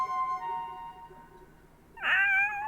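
A cat meowing in the video game Shadow of Destiny, a single clear meow rising near the end after a stretch of quiet tonal game music.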